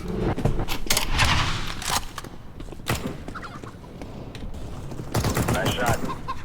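Gunfire in the shooter game Counter-Strike, dense bursts of rapid shots and clattering fusillades, loud and close, coming in clusters with brief lulls between them.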